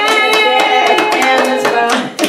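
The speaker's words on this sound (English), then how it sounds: "Clap for ourselves, yes," A small group of performers clapping for themselves at a 2020 gathering, with uneven, close hand claps ringing over a sustained tonal backdrop for a couple of seconds.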